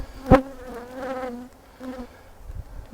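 Honeybees hum steadily at an open double nuc hive, a close, continuous buzz with one sharp knock or tap early on and the drone swelling and easing across a few seconds.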